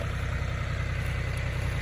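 A tractor engine idles close by with a steady, even low rumble and no variation or voices across the short stretch.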